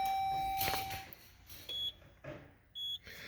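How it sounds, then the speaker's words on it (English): Two short, clear electronic confirmation beeps from an IGLA anti-theft system in a 2023 Jeep Grand Cherokee, spaced about a second apart, each loud and crisp against a quiet car interior. "I heard 2 beeps on my confirmation."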